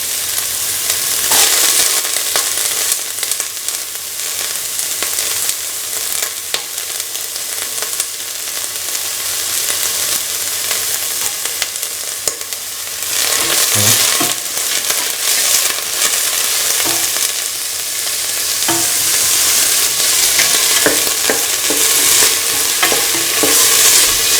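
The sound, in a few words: sautéing onions in a pan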